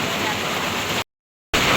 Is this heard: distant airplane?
no